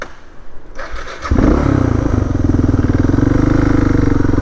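Motorcycle engine starts up close by after a short crank, then settles into a loud, steady, throbbing idle.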